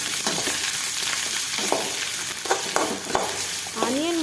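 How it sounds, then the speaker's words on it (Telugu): Chopped onion pieces frying in hot oil make a dense, loud, continuous sizzle close by, broken by a few brief scraping stirs of a spatula. "ఇలా కొంచెం హీట్ అయ్యాక అందులోకి మనం ముందుగా కట్ చేసి పెట్టుకున్న ఆనియన్ ముక్కల్ని వేసుకోవాలి"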